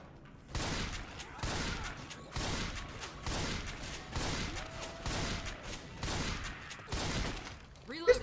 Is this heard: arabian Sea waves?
no